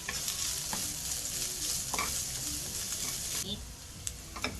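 Garlic sautéing with black pepper in a pan, a steady close sizzle with a few sharp stirring scrapes and clinks throughout.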